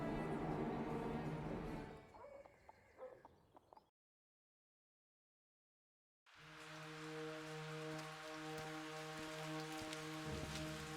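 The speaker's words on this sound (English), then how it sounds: "It's raining." Rain patters steadily in the We. the Revolution video game, a dense hiss that drops out into silence midway, then returns with a low sustained tonal hum beneath it.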